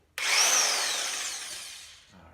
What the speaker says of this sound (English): I recently picked up this Porter Cable 1/2-inch hog ring impact wrench.